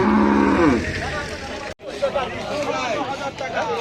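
Cattle moo loudly and deeply at the start, then a busy crowd keeps talking and chattering in the background at the Hazratpur cattle market, Paragram, Bangladesh.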